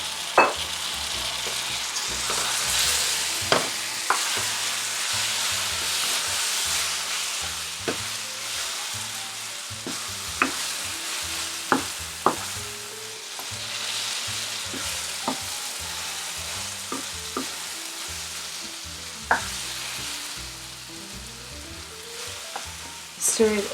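Eggplants frying in a pan with garlic and onion, a steady close sizzle under scattered sharp clicks and scrapes of a utensil stirring, with no talking.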